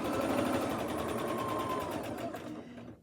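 A sewing machine stitches through a fabric scrap piece, a quick, close, steady mechanical whir and needle chatter that fades out near the end.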